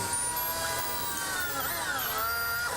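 Corrupted engine sound from the game Animal Crossing City Folk, glitched into a steady electric-car-like whine with layered harmonics that warble and bend downward, continuous and loud for the whole stretch.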